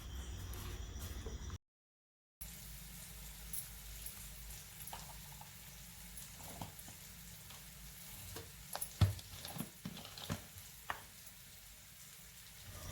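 Onion frying in a pan with turmeric and asafoetida just added gives a soft, low sizzle, briefly cut out early on, then quiet scattered clicks and taps of a spoon against the pan.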